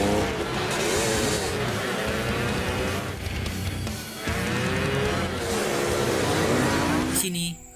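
Motorcycles roar in a gang chase from the film The Protector, with loud continuous engine noise, revving and passing vehicles, and a voice talking over it.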